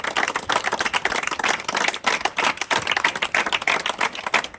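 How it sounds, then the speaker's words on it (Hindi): Steady, dense group clapping at a gathering for young army recruits, many hands beating together in a continuous crackling rhythm that holds for several seconds without letting up. "तालियां बजाते रहो दोस्तों, तालियां बजाते रहो।"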